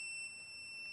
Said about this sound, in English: at what point does it trigger the continuity beep?